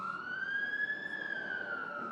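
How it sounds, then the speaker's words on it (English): An ambulance siren sounds as the vehicle passes on a city street, a steady, loud wailing tone with a slight rise and fall in pitch, continuous throughout and heard alone with no talk. "We'll let the ambulance go by."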